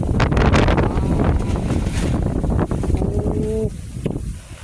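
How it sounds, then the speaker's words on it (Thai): Strong wind ahead of a rainstorm buffets the microphone in a loud, continuous roar, with a brief tonal whine near the end before the gusts ease slightly. "ลมมาแล้ว"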